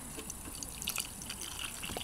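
Water trickles and drips faintly as it is poured onto a tomato seedling in a garden, a soft, close, continuous liquid sound with small splashy drips.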